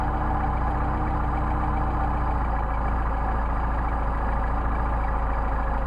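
A Solex-carbureted engine idles at 750 RPM, a steady, even low rumble with a fine rapid pulse, close and unchanging throughout with no voices.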